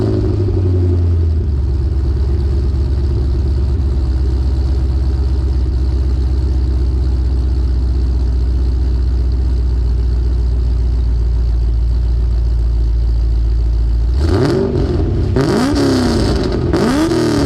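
A Camaro SS R IMSA race car engine turns over and settles into a loud, steady, throbbing idle for a long stretch, then blips sharply into a few rising revs near the end, close by.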